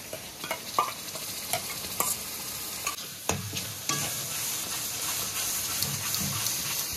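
Spice paste frying with onion paste in a pan for chicken kosha, a steady close sizzle broken by repeated scraping stir strokes and soft clicks, with no talking.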